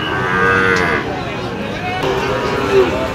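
A Sahiwal bull moos nearby at a cattle market, over a busy background with voices talking around it.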